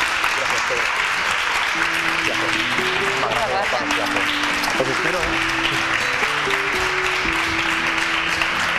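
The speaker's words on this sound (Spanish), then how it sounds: "Un aplauso para él." Studio audience clapping on a Spanish television variety show, continuous applause with sustained background music underneath and a brief spoken line partway through.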